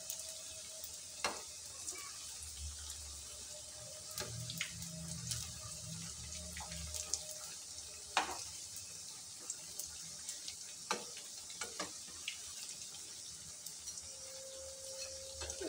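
Evening snacks fry gently in oil over a low gas flame, giving a soft, steady sizzle broken by occasional clinks and scrapes of stirring and turning.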